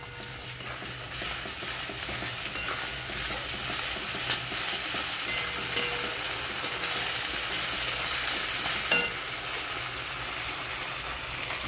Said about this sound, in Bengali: কড়াইশুঁটিটা ভাজা হয়ে যাচ্ছে একটু